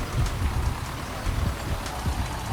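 Rain falling steadily in Farming Simulator 19, a dense, even hiss with scattered light patters that holds at a constant level throughout.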